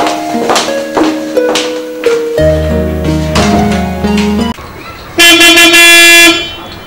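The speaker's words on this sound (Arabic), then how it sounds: "مو سامع الزمور" A car horn honks in a street scene, first with background sounds and voices, then a long loud sustained blast near the end.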